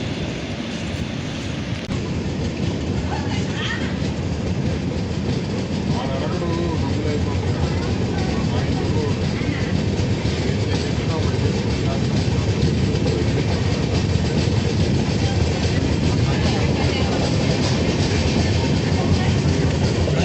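The Pinakini SF Express, heard from inside a carriage on the Vijayawada to Chennai run, keeps up a loud steady rumble with rhythmic clickety-clack of wheels over rail joints for the whole stretch.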